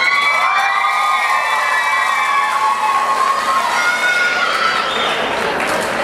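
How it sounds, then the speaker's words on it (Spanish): Crowd at an award ceremony for a cosplay event in Mexico cheers and shouts steadily, with high excited voices and whistles filling the whole stretch at close range. "fuerte el aplauso para Otaku Fest, ganador de la mejor edición de video"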